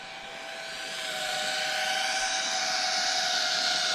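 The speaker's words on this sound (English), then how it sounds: "Just do a pass by so you can see how noisy it is." Nazgul F4D FPV drone making a low pass-by, a steady high-pitched propeller whine and motor buzz that swells slightly louder as it approaches and holds, with no talking.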